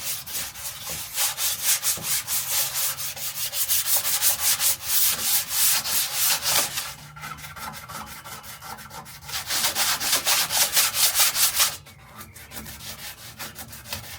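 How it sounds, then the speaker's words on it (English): A door panel surface being scuffed and scraped before gluing, a loud, steady abrasive rubbing in long continuous strokes close up, broken by brief pauses. "I'm going to scuff it up a little bit"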